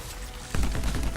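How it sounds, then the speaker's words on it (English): A combo effect in the Anthem video game breaks out halfway through as a sudden, loud, booming burst over a steady bed of game noise, then rumbles on with rapid, crackling, gunfire-like pulses. "I think that sound is a combo."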